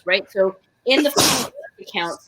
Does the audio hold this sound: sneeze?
yes